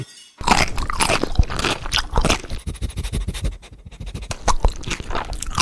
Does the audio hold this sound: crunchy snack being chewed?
yes